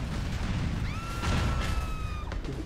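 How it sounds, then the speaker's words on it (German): A car blows up in GTA IV, a sustained rumbling blast with crackling debris and a ringing tonal whine in the game's sound mix, loud and dense with no talk. "Das nächste Auto wird explodieren."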